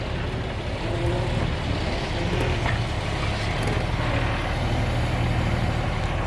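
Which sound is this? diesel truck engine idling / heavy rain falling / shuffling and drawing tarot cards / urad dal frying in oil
diesel truck engine idling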